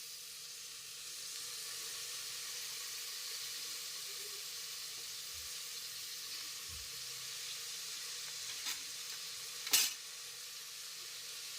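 Chopped tomato and coriander, with fenugreek and mint leaves, frying in oil for mutton keema biryani: a steady, even sizzle runs throughout, with a few soft stirring knocks and a brief louder scrape near the end, no voices.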